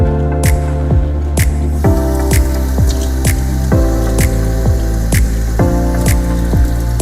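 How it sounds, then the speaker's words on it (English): Liquid pours into a shaker bottle packed with whey isolate protein powder, producing repeated close, loud glugging gulps with squishy, bubbling pitch drops in an uneven rhythm. "just the act of putting fluid in there starts mixing it right away"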